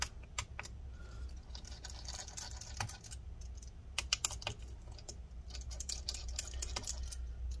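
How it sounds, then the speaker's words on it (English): Small clicks and taps as a PH1 screwdriver backs screws out of the metal plate inside a Lenovo IdeaPad Flex-15IML laptop, scattered light ticks and rattles over a low steady hum, with no talking. "So we're going to take this metal plate out using a PH1 or JAS1 screwdriver."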